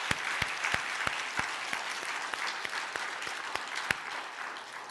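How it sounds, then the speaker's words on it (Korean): A church congregation claps in praise during an early-morning revival service, a sustained patter of many hands with some sharper individual claps standing out, fairly distant and soft in a large room. "우리 주님께 영광의 박수를 다시 한번 올려드립니다."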